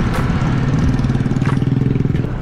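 Motorcycle engine while riding on Siargao, a close, loud, low rumbling drone with rapid regular pulsing and slight clatter, running continuously without speech.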